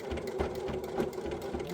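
A sewing machine runs close by in a fast, steady mechanical rhythm as it stitches fabric for a notebook book wrap, sewing over existing stitches in a short continuous burst.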